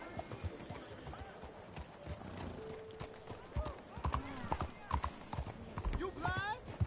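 Horse hooves clip-clopping in Red Dead Redemption 2, an irregular run of close hoof strikes under conversation between characters, with a short whinny-like tone near the end.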